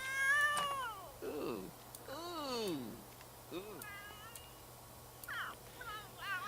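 A cat in The Sims 3 meows repeatedly, several drawn-out, whiny calls in a row over a quiet background hum.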